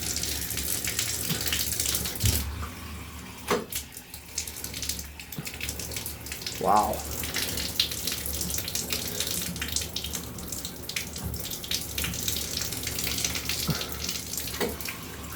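Water rushes steadily from a tap with poor water pressure, a continuous hissing spray with occasional splashes and clunks; one brief exclamation is heard.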